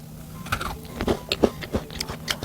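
Someone bites and chews a plain butter bar dessert up close, producing soft crunches and mouth sounds in a quiet room.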